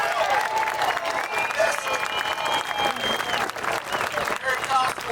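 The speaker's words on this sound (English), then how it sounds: "I say we give a round of applause to the late," A crowd at an outdoor Tea Party rally on Independence Mall in Philadelphia gives sustained applause for the late Harry Kalas, a dense, steady roar of clapping with some whistles and cheers mixed in throughout.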